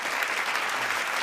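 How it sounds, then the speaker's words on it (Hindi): Audience applause at a Bhojpuri poetry reality TV show, a dense, even wash of many people clapping for a brief moment, close and sustained. "जोरदार तालियों के साथ धन्यवाद कीजिए"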